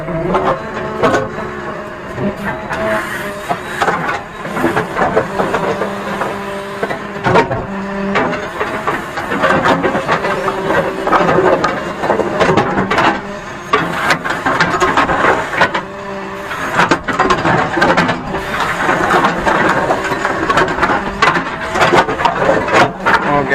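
JCB 3DX Eco Xpert backhoe loader clearing a site, scooping loose soil with its bucket; a steady loud diesel drone with clanks and scraping bursts throughout, close by and continuous.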